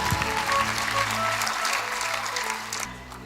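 Church congregation clapping together in a worship hall, a dense, steady wash of applause filling the room for about three seconds before thinning out, with a faint low hum of music underneath.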